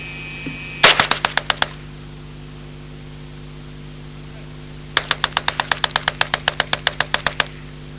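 Two fast bursts of gunfire come from a 1977 experimental low-recoil submachine gun loaded with Federal ammunition and held in one hand during a sweep: a short string of sharp cracks, a pause, then a longer rapid burst, heard outdoors over faint background hiss.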